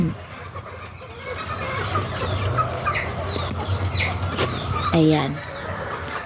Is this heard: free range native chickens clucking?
yes